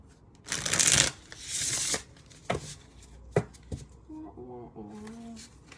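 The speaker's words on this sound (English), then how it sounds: "Shuffle, shuffle, shuffle. Damn, shuffling, shuffling." Playing cards are shuffled in two quick riffling bursts close by, followed by a few soft taps and a brief murmuring voice.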